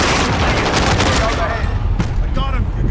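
A frag grenade blast and heavy gunfire in a video game, a loud dense roar of explosion and rapid shots filling the start, then tapering with a few distinct shots.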